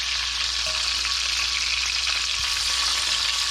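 Bacon-wrapped snipe meat fries in a pan with a steady, continuous sizzle and crackle held close and even throughout, with no voices.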